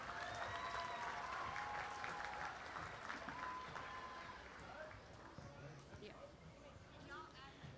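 Pageant crowd at the Choctaw Indian Fair applauding the 2018-2019 Choctaw Indian Princess, a broad wash of clapping that thins and softens toward the end, with some voices and cheering mixed in.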